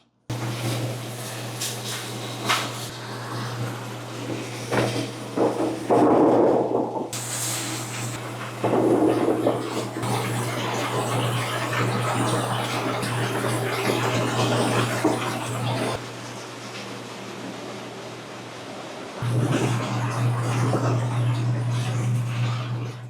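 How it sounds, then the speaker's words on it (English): A cucumber washing machine turns cucumbers over rollers under a water spray while brushes scrub off the dirt, giving continuous splashing and hissing water over a steady mechanical hum, with a few bursts of louder rushing and a brief voice. "So the water's being sprayed on top and then they're kind of getting turned over so that the brushes kind of brush off the dirt"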